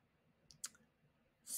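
Computer mouse clicking in a quiet room, a couple of faint quick clicks followed by a louder sharp click near the end.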